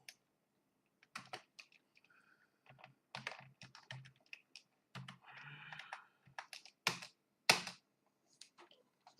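Brisk typing on a computer keyboard while JavaScript ReactJS code is written, with quick irregular bursts of close, crisp key clicks separated by short pauses.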